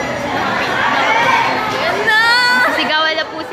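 Fans queue for concert tickets in Manila, the crowd chattering and shouting together loudly and up close, with excited voices rising over the noise.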